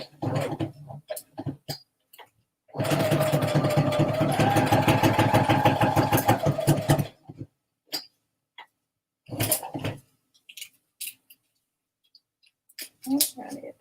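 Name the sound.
sewing machine stitching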